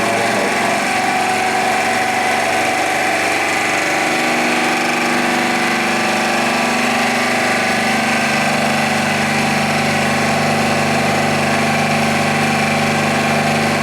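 An engine holds a steady fast idle at about 1500 RPM during a distributor test on a Sun test machine, with a loud continuous hum and drone and no talk over it.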